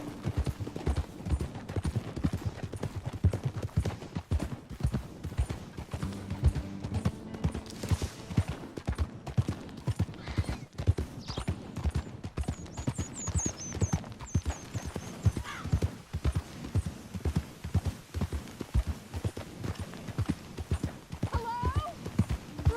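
Horse hooves clip-clop steadily beneath frequent talk and a whinny, in the Red Dead Redemption game, with busy background noise throughout.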